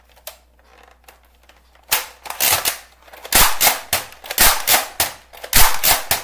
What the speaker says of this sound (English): He keeps shooting.